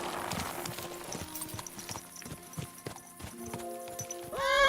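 Horse hooves clip-clopping on the ground in the medieval video game Kingdom Come Deliverance 2, a steady run of sharp close knocks with soft background music, ending in a rising whinny.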